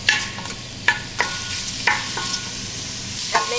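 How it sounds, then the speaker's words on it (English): Sausage frying in a pan while it is stirred, poked and chopped into smaller pieces: a steady close sizzle broken by several sharp utensil clicks and scrapes against the pan. "there's a sound, and then we are just poking the sausage"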